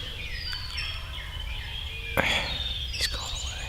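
A wild turkey gobbler gobbles in an Iowa public-land field at spring dawn, sharp rattling bursts cutting through steady outdoor background, moderately distant, with a couple of distinct calls.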